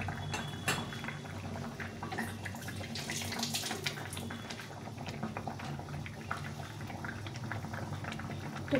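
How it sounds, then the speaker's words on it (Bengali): Tilapia fish curry in mustard paste bubbling in a pot, a soft continuous simmer with faint liquid pops and occasional clinks of utensils, close and quiet with no talking. "এটা ভালো করে ফুটিয়ে একটু কাঁচা সর্ষের তেল দিয়ে নামিয়ে দিতে হবে"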